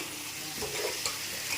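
Fish curry with salt being stirred in a hot pan: a steady sizzle and frying hiss with a few soft scraping strokes of the stirring, close and moderately quiet, with no voices.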